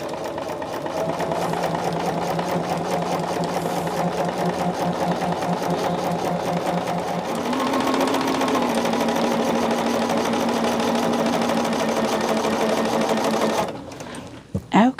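Sewing machine stitching a cuff and trim onto a Christmas piece, running in a steady continuous whir with a rapid needle rhythm, slightly changing pitch midway, close and loud, stopping near the end.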